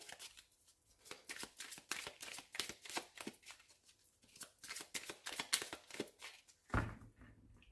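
Oracle cards from a deck called Rêves enchantés being shuffled by hand, a close run of quick riffling, flicking bursts with brief pauses, ending in a louder slap or thump as the deck is cut; no talking.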